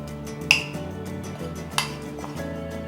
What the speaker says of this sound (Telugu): కొంచెం బీట్ చేసుకోవాలి పెరుగుని